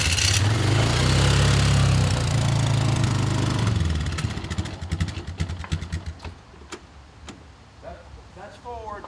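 A 2006 Polaris Sportsman 500 HO quad engine runs roughly, loud and steady at first, then drops to an uneven idle with scattered ticks and clatter.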